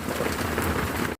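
Heavy rain pours down in a thick, steady roar of drops that drums on surfaces nearby, filling about a second before cutting off.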